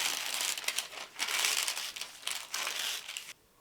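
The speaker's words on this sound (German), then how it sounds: "Wir entfernen die Papierschicht von unserem Flisofix" Paper backing peeled off Vliesofix fusible web, close crinkly tearing and rustling in several bursts that stop abruptly at the end.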